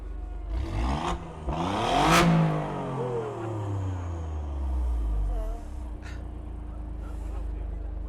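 Alfa Romeo Giulia QV with a 2.9 V6 bi-turbo engine revving at a motoring festival, sharp throttle blips rising and falling close by, then a long descending engine note settling to idle, with people talking over it.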